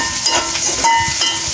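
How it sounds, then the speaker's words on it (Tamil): Finely chopped onions sauté in a pan with a steady, close, loud sizzle and hiss, crackling lightly throughout. "வெங்காயம் வதங்கிட்டு இங்கே வந்து பாருங்க"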